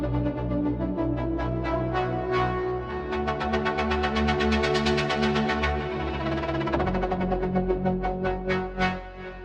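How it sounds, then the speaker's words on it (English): Bright synth lead built from saw waves in Xfer Serum 2, a melodic techno patch called Cold Rush, plays a sustained chordal melody with a swelling, pulsing filter and echo tail, loud and upfront with no voice. "Today we're going to recreate a simplified version of this lead sound from our new pack Xfer Serum 2."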